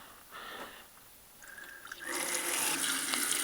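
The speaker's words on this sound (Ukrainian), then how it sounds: "І попробую помалу відкривати воду." A tap on a Beko washing machine's supply line is opened slowly, giving a faint hiss that begins in short bursts and then grows into a steady, fuller rush of running water.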